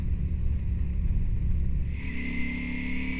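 A Ducati Diavel 1260S motorcycle engine rumbles low and steady with wind buffeting the microphone at night, the pitch rising partway through as the engine revs.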